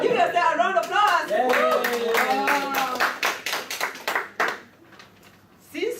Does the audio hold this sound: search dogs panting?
no